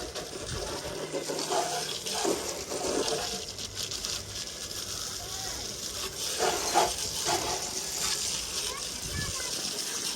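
Water splashing onto a muddy motorcycle during washing, a steady broadband spray with bursts of splatter, heard throughout alongside people talking.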